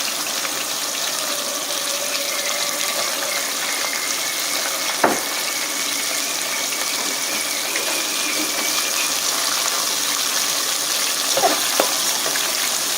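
Lobster deep frying in hot oil makes a continuous watery, bubbling rush at moderate loudness, with a couple of brief clanks and no voices.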